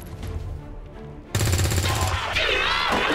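Automatic gunfire in the strategy game XCOM 2 cuts in suddenly as a trooper is shot, a loud, rapid burst that carries on to the end after a quieter stretch of background sound.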